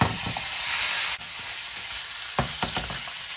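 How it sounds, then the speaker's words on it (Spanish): Pork ribs searing in a little oil in a pan, giving a loud, steady sizzle with occasional crackles and the clatter of stirring throughout. "En un sartén agregamos bien poquito aceite solamente para sellar la carne."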